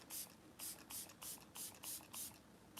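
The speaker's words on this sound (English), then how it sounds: "I'm going to use the same spray that I'm going to use towards the end, which is the e.l.f. times Jenny. I love this little mister on here." e.l.f. setting spray mister spritzing a makeup sponge, six or seven quick, bright, hissing sprays in a steady rhythm, close and fairly soft.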